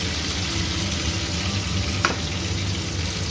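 Steady sizzling of chicken frying in hot oil, a continuous crackling hiss with one brief clack partway through.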